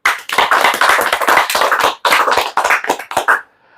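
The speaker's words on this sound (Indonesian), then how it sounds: "Mari kita tepuk tangan." A small audience claps hands in bursts, sharp close claps in uneven rhythm with short pauses between groups, loud and alone before stopping abruptly.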